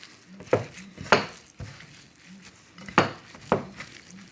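Meatball mixture is worked by hand or spoon in a bowl, giving a handful of separate wet slaps and knocks with quiet gaps between them, close and fairly distinct, without speech.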